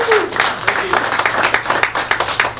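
A brief round of audience applause rises in a hall, quick uneven claps filling the moment while a voice carries over the start.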